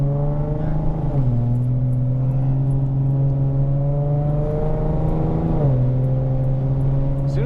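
A tuned 3.7-litre Mustang with 3.73 gears pulls hard from inside the cabin, its steady engine drone rising in pitch, then dropping sharply at two quick gear shifts before climbing again.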